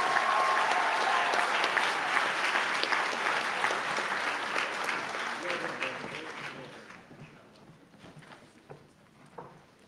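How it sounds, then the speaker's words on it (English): Audience applause at a dental school white coat ceremony, a dense crowd clapping loudly at first, then thinning and fading over the final seconds to a few scattered claps. "Let's give them all a round of applause."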